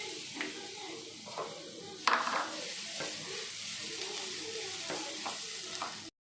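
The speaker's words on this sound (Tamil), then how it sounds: "தேங்காய் வறுத்துக்கிடலாம்" Grated coconut dry-roasts in a pan for sweet aval urundai, a soft steady sizzle with repeated spatula scrapes and one sharper clank of metal, continuing evenly until it stops abruptly.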